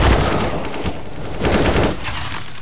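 A gun in CS:GO fires a continuous rapid burst, loud and close, the shots running together with no talking over them.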